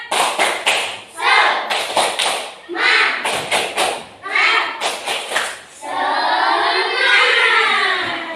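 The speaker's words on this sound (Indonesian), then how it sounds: "Tepuk semangat dulu ya, tepuk semangat" Primary-school class performing a rhythmic Indonesian 'tepuk semangat' clapping chant, loud sharp claps in patterned bursts mixed with children chanting together, ending in a sustained group shout.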